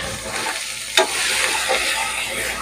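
Handful of fresh coriander leaves frying in hot oil in a pan for a vegetable biryani, a steady close sizzle with a brief stirring clatter near the start.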